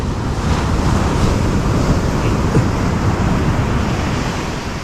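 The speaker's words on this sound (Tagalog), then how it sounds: "lalaki pala ng alon" Steady roar of large ocean waves crashing and churning, mixed with gusty wind buffeting the microphone, continuous and loud throughout.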